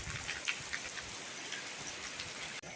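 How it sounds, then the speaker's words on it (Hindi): Heavy rain pours steadily over a farm field in the village, a dense unbroken hiss of drops hitting the ground that holds at an even, moderate level and cuts off abruptly near the end. "बारिश तो लग रहा है बंद नहीं होने वाली"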